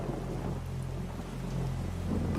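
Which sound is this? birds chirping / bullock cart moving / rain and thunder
rain and thunder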